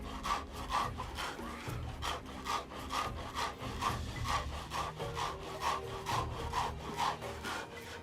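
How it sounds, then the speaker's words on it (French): Sorghum grain is ground into flour on a traditional millstone, the stone rasping back and forth in a steady rhythm of rough scraping strokes, close and fairly quiet. "Vient ensuite moudre les graines pour obtenir de la farine. Elle se fait en utilisant la meule traditionnelle."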